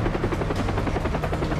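A Far Cry 3 attack helicopter roars overhead, its rotor chopping in a fast, steady, loud thump that fills the whole moment with no voices.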